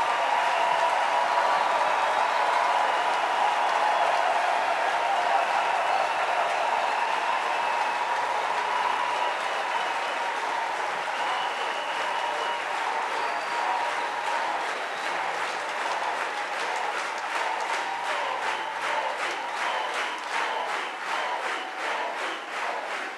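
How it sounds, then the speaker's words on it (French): A crowd at a worship camp meeting claps together, a dense, loud wash of applause that settles into a steady rhythmic beat in the later seconds. "Let's clap for the Lord."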